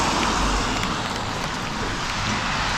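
Rain falls steadily on a street, a dense continuous hiss with a low rumble beneath, moderately loud and unbroken throughout.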